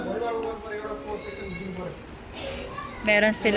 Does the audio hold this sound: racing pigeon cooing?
no